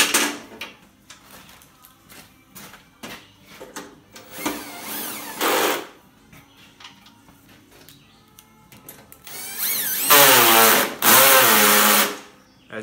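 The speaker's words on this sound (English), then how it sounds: "I'm going to screw those bolts with limited torque to make sure that I don't over tighten them" Bolts being driven into a Bolens mower deck with a power driver set to limited torque: repeated whirring bursts of varying length, some short and some sustained, loud and close, with rattling in between.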